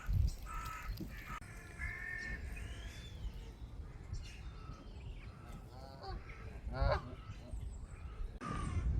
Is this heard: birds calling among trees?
yes